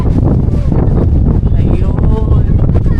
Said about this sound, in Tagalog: Malamig ang simoy ng hangin, parang Pasko lang.